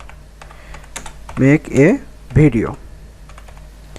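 Soft keyboard taps sound while a search title is typed on a computer keyboard, with scattered quiet clicks under a man's short spoken phrase.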